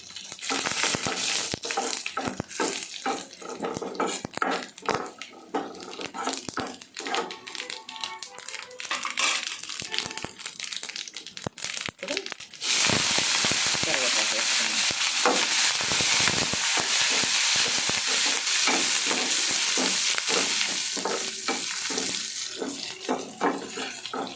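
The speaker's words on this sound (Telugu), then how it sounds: "ఇప్పుడు మనం జీలకర్ర ఆవాలు ఎండుమిర్చి అప్పుడు వేసేసుకొని" Mustard seeds, cumin and dried red chillies sputter in hot oil as a tempering. A dense, loud, continuous crackle with rapid popping, growing fuller and steadier about halfway through. No voices.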